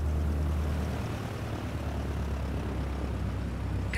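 A Cessna 172 in a flight simulator game rolls and brakes along the runway after landing, its low propeller engine drone steady and constant for several seconds, with no talk over it.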